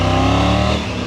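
A Triumph Tiger 900 motorcycle engine revs loudly and close, a steady harmonic drone that holds then eases off slightly near the end, with no talk over it.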